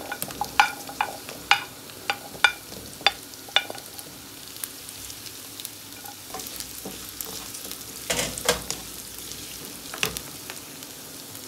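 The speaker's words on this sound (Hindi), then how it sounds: "थोड़ा मैं इसको स्टर कर लूँगी अच्छे से" Potatoes, carrots and peas frying in a pan with chopped spices, a spoon stirring them in a string of sharp scrapes and clacks over a steady low sizzle, close and fairly quiet, with no talk.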